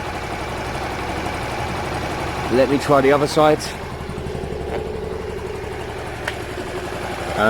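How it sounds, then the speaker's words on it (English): A Honda Varadero 125 motorcycle engine idles steadily throughout, a low continuous rumble, with someone speaking briefly over it partway through. "Listen to the engine."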